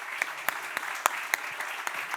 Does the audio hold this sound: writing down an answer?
no